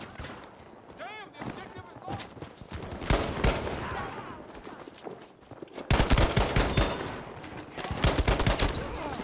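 Gewehr 43 rifle fire in the video game Battlefield V: loud, sharp shots in uneven bursts, with battle noise around them and players talking throughout.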